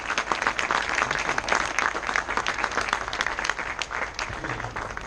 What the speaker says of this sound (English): Clap hands for your lecturers.